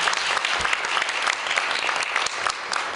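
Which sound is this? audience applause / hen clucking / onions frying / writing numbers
audience applause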